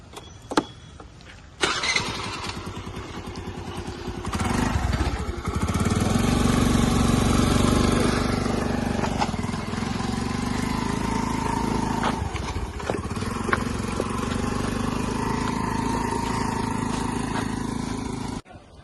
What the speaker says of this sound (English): we will run this vehicle on the fuel engine, and then we will going to switch it on the EV